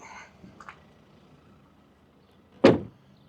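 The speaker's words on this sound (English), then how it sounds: "if you have the door wide open and you close it" Sliding door on a Farizon SV electric van thudding shut once, a single loud close near the mic after a few faint rustles and clicks.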